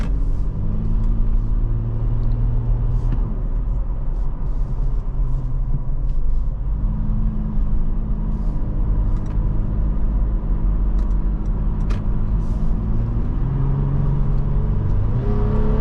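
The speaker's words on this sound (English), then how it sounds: "And I love this engine. It sounds deep, throaty." A deep, throaty engine drone from a 2023 Toyota 4Runner TRD Off Road Premium driving steadily, with pitch rising and falling as it accelerates, plus road rumble.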